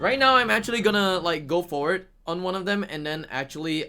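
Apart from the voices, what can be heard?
None of the usual background noises is heard.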